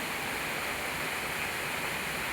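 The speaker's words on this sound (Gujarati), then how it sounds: "ધબધબાટી વરસાદ બોલાવે છે" Heavy pouring monsoon rain in Surat, where water is collecting, comes through as a brief, steady, broadband rush, fairly soft and uniform, with no talking.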